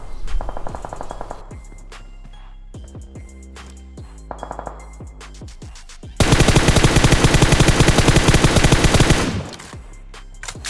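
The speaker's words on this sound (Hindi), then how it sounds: "इसी बीच एक बंदा मुझे ऊपर की साइड स्पॉट होता है जो कि फायरिंग कर रहा था।" Enemy gunfire in PUBG Mobile: scattered single shots and short bursts at first, then a loud, sustained rattle of rapid automatic fire for about three seconds before it stops.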